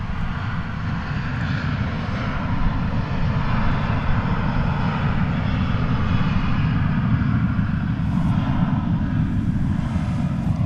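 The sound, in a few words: American Airlines Boeing 787-8 arriving from Tokyo Narita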